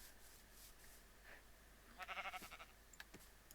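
A video-game sheep bleats once, a short wavering cry over a steady low background hum, fairly faint and without talk.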